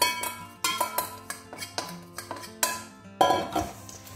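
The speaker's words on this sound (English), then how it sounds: "Just give that a good mix." Melted butter is stirred into a Nutella cheesecake mix with a steady run of close metallic clinks and scrapes of a spoon against a bowl, ending in a louder clatter.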